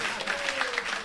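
A studio audience claps in a brief, moderately faint burst of applause, with a tonal hum running underneath.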